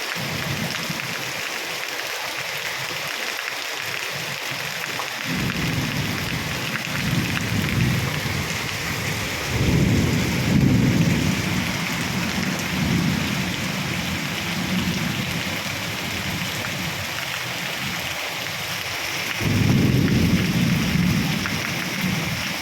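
Heavy monsoon rain pouring steadily over a road, a dense continuous hiss with deep rumbles of thunder swelling in a few times, no voices.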